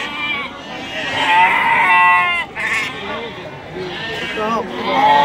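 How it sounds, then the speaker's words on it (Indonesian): Garut sheep at a busy livestock market bleat repeatedly and loudly, overlapping calls close by amid crowd chatter and someone talking. "Ini ada domba garut juga di sini."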